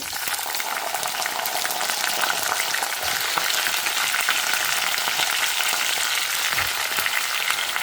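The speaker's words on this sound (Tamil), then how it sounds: "ஸோ கடுகு பொரிஞ்சிடுத்து பார்த்தேன்னா உளுத்தம்பருப்பும் சவக்க ஆரம்பிச்சிடுத்து" Mustard seeds splutter and urad dal fries in a clay pot over a wood-fired stove, making a loud, dense, unbroken crackling sizzle heard up close, with no voices.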